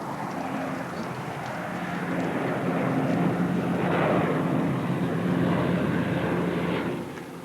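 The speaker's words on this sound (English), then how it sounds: "there are aeroplanes flying over most of the time" A fixed-wing aeroplane passing overhead, a broad engine rumble that swells slowly toward the middle and fades near the end, steady and moderately distant with no talk.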